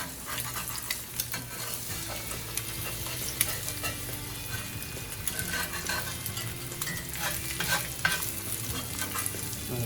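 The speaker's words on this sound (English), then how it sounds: "I'm going to grab this awesome metal spatula." A metal spatula stirs a hangover hash frying in a pan, with continuous sizzling and repeated scraping, clattering strokes across the pan surface, close and steady throughout with no talking.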